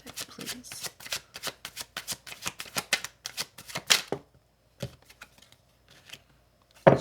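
Tarot cards from a black deck riffle in a quick, close shuffle, a dense train of crisp flicks lasting several seconds, then a few isolated taps and a final louder card snap.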